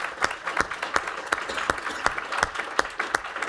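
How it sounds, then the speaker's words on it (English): Lively audience applause for two panelists at a forum on social media and the American campaign: a dense wash of clapping with regular accented claps throughout, steady and close, with no speech. "Let's give Vince and Melissa a round of applause and thank them for their time."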